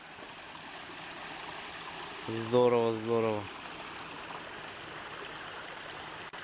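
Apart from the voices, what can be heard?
stream flowing by the Volga riverbank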